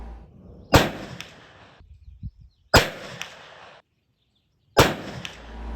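Three loud, sharp muzzleloader rifle shots loaded with three Firestar powder pellets and a 340-grain bullet, evenly spaced about two seconds apart, each with a quick decaying echo, no talking.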